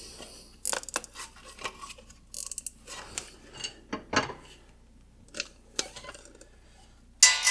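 A ratchet tightens bolts on the shock tower of a Jaguar XJ40, giving off irregular bursts of sharp close-up clicks and ratcheting rattles, with short pauses between strokes and no talking.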